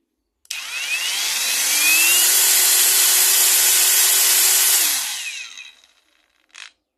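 An Osuka angle grinder runs at speed level three with a loud, steady high whine that rises, holds for several seconds and winds down, followed by a brief faint rattle.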